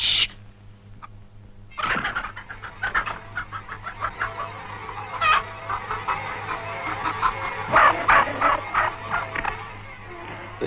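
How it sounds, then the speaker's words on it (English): Hens in the 1954 animated Animal Farm cluck and squawk in an agitated, rapid chorus of overlapping calls after a sharp thump, fairly close and continuous. "The chickens seemed to remember old Major saying that their eggs should never be taken from them"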